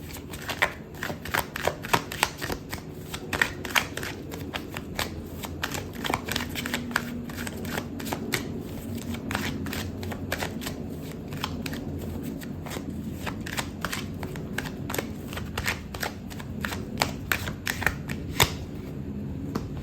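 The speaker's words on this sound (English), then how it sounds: "Okay, so I'm going to pull out another card for you." Tarot cards shuffled continuously during a love reading, a dense run of crisp riffling clicks and flutters lasting throughout, close and steady, with no talking.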